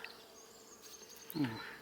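Honey bees buzz at a hive during an inspection, a low steady hum with a brief louder swell of nearby wingbeats near the end.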